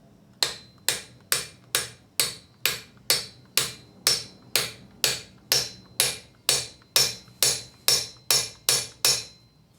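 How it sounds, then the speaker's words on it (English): Steady, evenly spaced blows of a copper and hide hammer knock parts into a Lambretta scooter, about twenty sharp close knocks with no talking. "let's see how that's going to work with the hammer. Copper and hide hammer, obviously."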